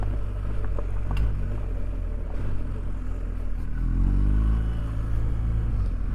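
Engine rumble of a superbike riding along a rough off-road stretch, with a four-wheeler approaching; steady loud drone with a rising harmonic sweep near the end as a vehicle draws close.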